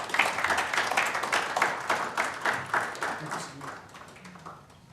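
An audience at a sustainability event in the UAE applauds after a speech, with dense clapping close by that holds steady for a few seconds, then thins out and fades.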